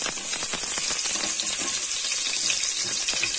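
Oil poured over lentils in a hot pan sets off a steady, bright sizzle, close and continuous, with faint stirring clicks beneath.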